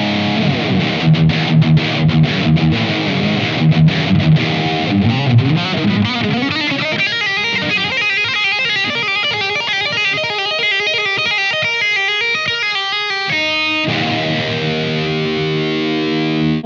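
An electric guitar played through a Blackstar AMPED-1 pedalboard amp with an extra overdrive pedal, heavily distorted chords and riffs ringing out loud and continuous, with palm-muted chugs and sustained notes alone without talk.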